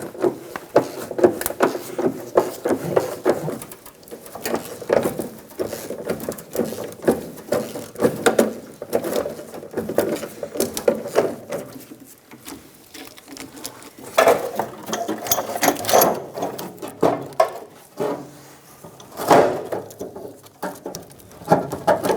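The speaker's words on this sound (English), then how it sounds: "Using a 13mm socket," A 13mm socket ratchet removes a fuel tank strap bolt on a 2000–2007 Ford Focus, with a fast, continuous clicking and patter that continues in uneven bursts throughout, close by.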